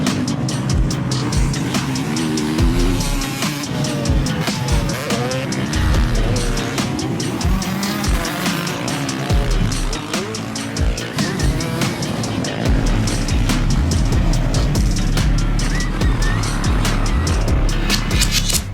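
A Stark Varg electric dirt bike rides at the Glen Helen track, loud and close, with continuous motor whine, knocks and rattles over rough ground, and bursts of acceleration throughout.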